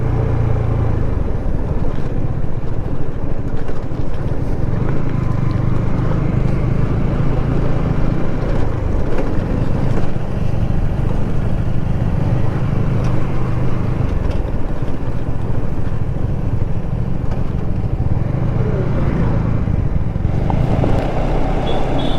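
A motorcycle engine drones steadily up close, with a continuous low rumble and rattling noise as it rides over a rough, broken, bumpy road still under construction in Bangladesh.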